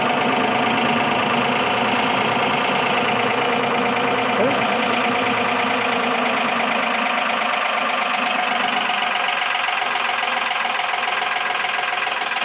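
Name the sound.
Mahindra 6075 tractor loader lifting self-leveling bucket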